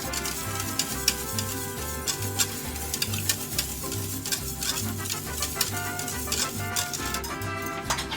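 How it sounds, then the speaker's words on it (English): Salt being whisked into a pot of mole sauce, a steady rhythmic scraping and stirring that repeats close by under a busy background hum. "We're going to go ahead and whisk that in."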